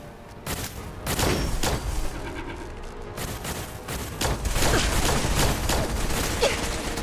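Robots fire guns in Fallout 4, a dense stream of loud close shots and crackling bursts running almost continuously, with a brief pause before the firing resumes.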